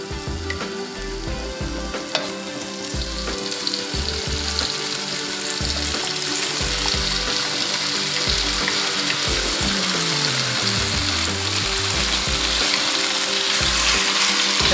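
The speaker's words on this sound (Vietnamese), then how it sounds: "Bây giờ mình chiên gà đi ha." Chicken sizzles and crackles loudly and continuously in a hot pan, with occasional stirring clatter and faint background music.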